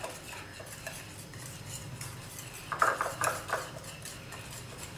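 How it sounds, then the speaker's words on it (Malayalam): An egg is stirred into banana cake batter in a bowl, faint scraping and a short cluster of spoon clinks against the bowl partway through, in a quiet kitchen. "അതിനുശേഷം ഇതും നന്നായിട്ട് തന്നെ ഒന്ന് മിക്സ് ചെയ്തെടുക്കാം"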